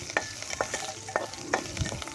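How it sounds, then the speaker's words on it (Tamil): Curry leaves and cinnamon frying in a pan, stirred with a spoon: about five quick scraping strokes in a loose rhythm over a continuous soft sizzle. "கருவேப்பிலை சேர்த்துட்டு நல்லா ஒரு கிளறி விட்டுக்கிடுவோம்"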